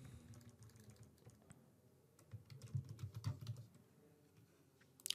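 Someone types an email address and phone number into a web form on a computer keyboard, with soft, quick keystrokes in uneven bursts, close but quiet, and a brief louder clatter near the end.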